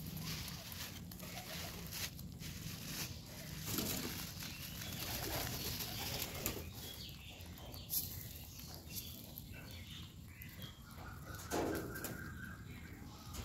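Pigeons gather at feeding time, soft cooing and faint wing flutters blending into a steady murky outdoor noise bed, with occasional sharper clicks and scuffles, nothing rising much above the background.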